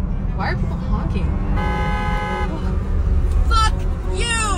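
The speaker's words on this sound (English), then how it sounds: "Why are people honking?" Car horns honking in traffic, with several toots and one sustained blare over a continuous road rumble, while people talk close by.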